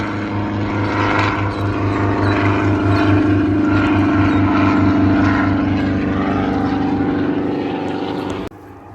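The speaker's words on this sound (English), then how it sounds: "And there's a helicopter right there." A loud helicopter drones close overhead at a drive-in theater in Abingdon, Virginia, its rotor giving a steady low thumping pulse beneath a broad engine roar that cuts off abruptly near the end.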